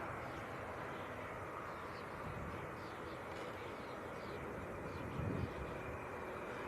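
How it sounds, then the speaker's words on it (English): A Boeing 737-300 airliner touches down at Leeds Bradford Airport with a steady broad engine roar and rush, distant and fairly faint outdoors, holding constant with a slight swell near the end. "Next arrival, just touching down. Another 300 series 737."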